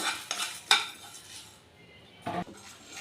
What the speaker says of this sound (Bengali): সামান্য পরিমাণে পাঁচফোড়ন দিয়ে দিলাম দিয়ে শুকনো খোলায় এগুলোকে আমি ড্রাই রোস্ট করে নেব